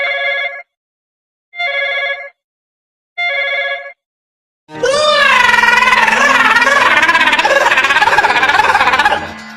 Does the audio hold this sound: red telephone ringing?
yes